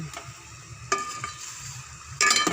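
Mushrooms (uhong) sauté in a pan with a low sizzle, broken by sharp utensil clinks and scraping stirs, with a louder burst of clatter near the end.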